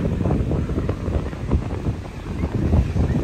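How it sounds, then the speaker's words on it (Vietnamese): Strong wind and big waves at the sea in Ha Tien on a rainy afternoon, heard as a steady, loud roar of wind buffeting the microphone with surging rumble underneath and no talking. "gió rất là lớn, sóng đánh cũng lớn nữa"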